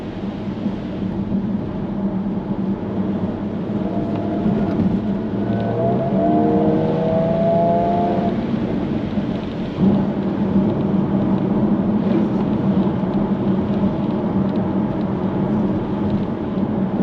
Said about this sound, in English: The supercharger also makes a really nice noise too.